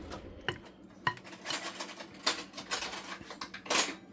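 Metal cutlery clinks and clatters against dishes in a home kitchen as a fork is fetched, a series of sharp, close, irregular taps and rattles with no talking.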